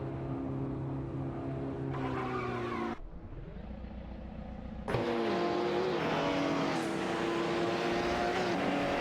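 Engines of racing cars in a video game overtaking for position, a loud droning whine that jumps and changes pitch as the camera switches between cars, with no talking.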